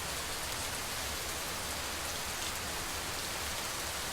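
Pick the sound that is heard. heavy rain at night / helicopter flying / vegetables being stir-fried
heavy rain at night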